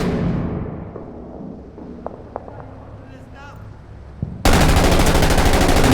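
Bursts of M249 SAW light machine gun fire from a video game ring out loud and dense near the end, after quieter scattered shots and a fading blast in the game.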